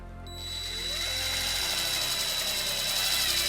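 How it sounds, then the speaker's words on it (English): A power driver with a 1/4-inch socket spins up on a self-tapping screw, grounding a trailer wiring harness behind a panel on a 2016 Toyota RAV4; a short whir rises and then holds steady, close by. "we're going to use the provided self-tapping screw and a 1/4-inch socket"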